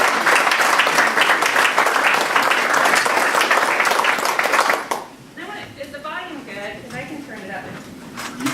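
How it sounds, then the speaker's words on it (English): Round of applause at an April 2018 luncheon for new mayor David Albee, dense steady clapping for about five seconds that cuts off, followed by a person talking nearby. "let's all give him a round of applause"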